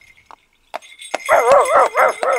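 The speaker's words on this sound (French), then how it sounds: "Sherlock Holmes venait de lâcher le chien, qui s'élança vers la voiture pour faire fête à sa maîtresse retrouvée." A dog in a French radio drama set at a country château lets out a short yelp, then a run of loud, close, excited barks and whines as it rushes toward an arriving carriage.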